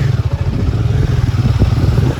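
A Royal Enfield Himalayan 450 motorcycle engine thumps nearby with a loud, heavy, pulsing low rumble, steady and throbbing throughout.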